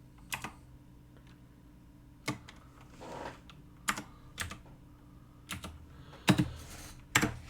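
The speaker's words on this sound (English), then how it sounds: "the percent sign is what you type when you hold down Shift and press 5 on your keyboard" Keys clacking on a computer keyboard in irregular bursts, with single sharp taps and short clusters spread across a quiet background, close and fairly soft.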